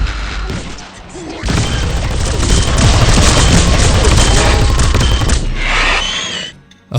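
Grenade blasts in the Brute Force video game, a long roaring run of booming explosions and crackling gunfire-like bursts up close, swelling loud for several seconds before dying away, with a voice shouting over the start.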